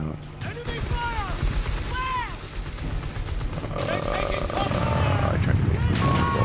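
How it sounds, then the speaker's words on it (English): Rattling machine-gun and rifle fire in Company of Heroes 3, repeated bursts near and distant over rumbling vehicle engines, with someone talking over the battle. "Enemy fire!"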